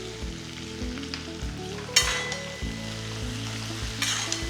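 Onions sautéing in a hot pan with curry leaves and salt for tomato fry, a steady close sizzle under a regular pattern of stirring scrapes and occasional sharper clatters, with no voices.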